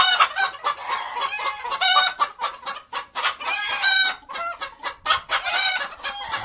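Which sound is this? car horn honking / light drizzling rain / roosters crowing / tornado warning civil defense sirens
roosters crowing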